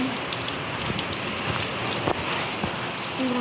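Rain falls steadily on a rooftop terrace in a village, a dense continuous patter of drops close by with no talking.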